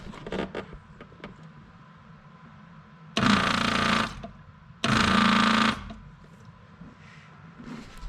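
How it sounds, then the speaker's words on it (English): An electric water/methanol injection pump whirs in two loud bursts of about a second each while priming, over a quiet background of faint clicks and handling noise. "I can just turn the pump on from here"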